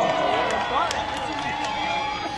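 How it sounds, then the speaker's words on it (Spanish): Crowd noise at a lucha libre wrestling event in Cuautla, Morelos, for wrestler Sexy Rubí, with scattered claps and cheers beneath an announcer's voice and music. "el aplauso fuerte para Sexy Rubí"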